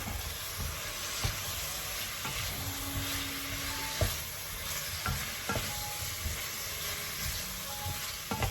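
Beef stew with cumin being stirred in a pot, a soft continuous scrape and bubbling sizzle with occasional sharper knocks of the spoon against the pot, close and steady throughout.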